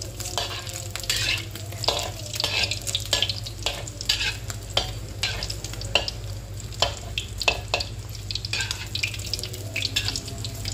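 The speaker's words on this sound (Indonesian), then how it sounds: "Sambil menunggu minyak matang, aku mau goreng sosisnya." Sausages frying in hot oil in a home kitchen while noodles are being prepared, a steady close sizzle with clattering pan and utensil stirring throughout, no talking.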